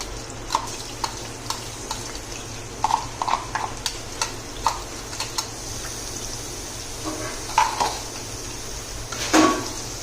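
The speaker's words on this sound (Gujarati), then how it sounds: "બ્લેક બીન્સ બનાવવા માટે તેલ બટર મૂકી અને એમાં આપણે લસણ એડ કરશું।" Garlic frying in oil and butter in a pan, a steady low sizzle with scattered light taps and scrapes of a utensil, close and fairly quiet, no talking.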